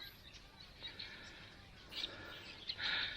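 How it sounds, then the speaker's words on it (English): Birds, including parrots, call and chirp along a concrete river walk path beside the Bulloo River at Thargomindah, faint scattered tweets growing busier toward the end over quiet outdoor ambience. "it's just incredible the amount of birds here. All types."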